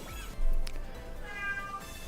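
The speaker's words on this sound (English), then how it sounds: "My cat's meowing." A pet cat meows a couple of times nearby, the calls faint and short against quiet room noise.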